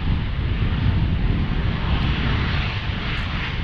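A Delta Boeing 737-800 jet passes near an airport, a loud steady broadband engine roar filling the entire stretch without pause.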